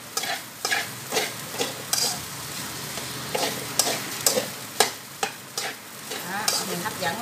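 Fried rice with fish balls and Chinese sausage being stirred and tossed in a hot pan, with repeated scraping strokes over a steady close sizzle and no talking.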